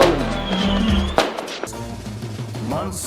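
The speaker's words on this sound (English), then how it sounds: "Thomas and Percy enjoyed the fireworks." Fireworks going up and bursting at a Halloween celebration in a Thomas and Percy train story, a loud crackle and pop among music and effects, with a whooshing rise and sharp bang midway.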